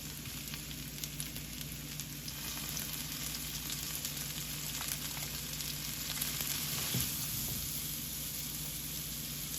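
Wild mushrooms sizzle in a hot pan with a soft, steady crackle. A faint clatter of stirring comes partway through.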